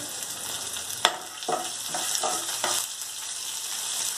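Green chillies and dal frying in hot oil, a steady close sizzle broken by several soft stirring scrapes, with no talking.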